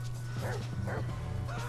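Chop the dog barking and yipping in Grand Theft Auto 5, a few short quick barks over a steady low engine-like drone, moderately close.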